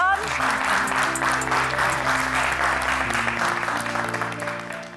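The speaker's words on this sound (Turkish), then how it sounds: "Emine Hanım ve Gözde Hanım'ı alkışlarla çağırıyorum" Sustained applause from a studio audience on the Turkish cooking competition show Gelinim Mutfakta, steady and loud throughout with background music playing underneath.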